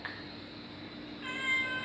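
A stray cat in Bahrain gives a single short, close meow near the end, following a quiet stretch of faint background hum.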